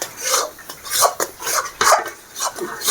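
A spatula stirs khoya (mawa) in a hot kadhai after the gas is turned off, making loud, close, continuous scraping and rasping strokes with a rough, uneven rhythm.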